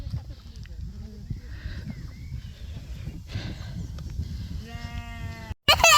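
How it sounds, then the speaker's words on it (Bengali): A single sheep gives a clear, wavering bleat near the end, heard in a quiet outdoor field with a low rumble of wind and soft voices in the background. "ভেড়াগুলো আমাদের দেখে পালায় চলে যাচ্ছে।"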